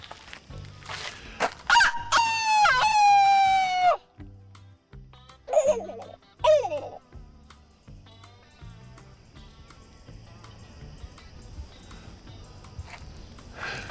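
A man imitates a turkey gobble with his voice, giving a rapid, high warbling rattle for a few seconds, then a couple of shorter gobbling bursts over faint background noise.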